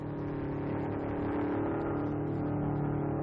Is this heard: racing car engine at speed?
yes